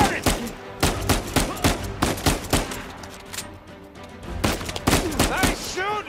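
Gunfire in the video game Uncharted 4, with rapid bursts of sharp, loud shots crackling in quick succession and short pauses between volleys.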